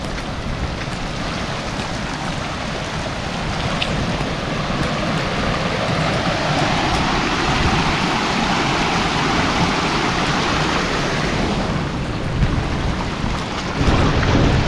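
Heavy rain pours steadily at a farm pond where an earthen dam is being built, with a dense, continuous hiss and low rumbles of thunder beneath it, and no talking.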